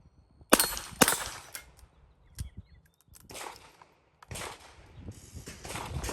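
Sharp metallic clicks and clacks come close up as a revolver is loaded with a SpeedBeez speedloader, a few loud snaps followed by softer handling and rustling.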